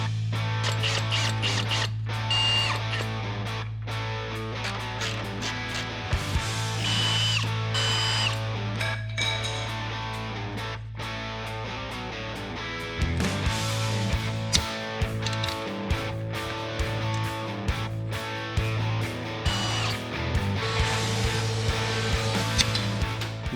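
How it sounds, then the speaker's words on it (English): Power drill drilling out rivets during a winch install, running in long loud stretches with ratcheting, clicking bursts and brief pauses; no talking. "I just drilled those rivets out because I forgot."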